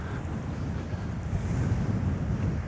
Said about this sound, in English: There's the sea, Moss.